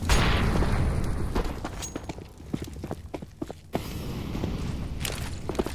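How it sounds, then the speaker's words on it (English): Grenades exploding in a CS:GO esports match, a loud opening boom followed by scattered thuds, footsteps and pops, with a second burst near the end and crowd noise throughout. "Nades on all sides"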